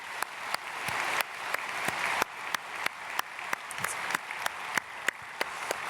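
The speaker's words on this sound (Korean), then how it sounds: "박수로 축복하겠습니다" Congregation applauding during an early-morning church prayer service, steady dense clapping, fairly quiet and distant, with no voices over it.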